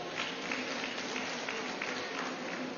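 Crowd clapping at a public education event, a steady dense wash of applause from a large audience with no gaps, fairly loud and continuous throughout.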